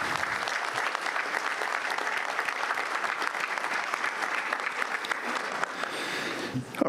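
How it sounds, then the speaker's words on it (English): Audience applause fills a membership meeting hall, a steady wash of clapping from many hands that carries on for several seconds at even strength before tapering slightly at the end. "we'll give you a round of applause for"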